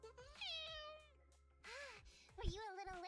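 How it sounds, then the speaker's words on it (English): A stray cat in an alley gives several drawn-out, rising meows with a low purring rumble underneath, close and fairly quiet. "A purring stray cat slowly walks out of the alley."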